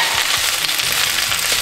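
Shrimp for shrimp Alfredo pasta sizzle in a pan, a loud, steady crackling fry close up with no speech.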